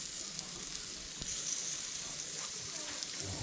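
Raccoon meat sizzles faintly on a grill, a soft continuous hiss and crackle with a few small pops, quiet and without talk.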